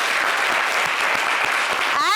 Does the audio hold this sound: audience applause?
yes